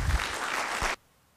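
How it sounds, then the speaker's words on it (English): A short burst of audience applause after a closing keynote at an agile-methods conference: brisk clapping for about a second that cuts off abruptly into near silence. "On peut l'applaudir, je pense."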